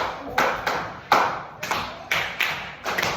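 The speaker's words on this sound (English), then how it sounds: "you're only going to clap with the answer that you chose" Students clap their hands in a classroom, about eight separate sharp claps spaced irregularly at moderate loudness, with no talking over them.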